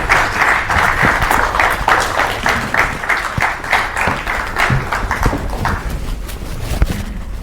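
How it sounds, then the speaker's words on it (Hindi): A studio audience applauds loudly to welcome the guest Pandit Pradeep Mishra, a dense, sustained clapping that holds steady and begins to thin toward the end. "जोरदार तालियों के साथ स्वागत कीजिए पंडित"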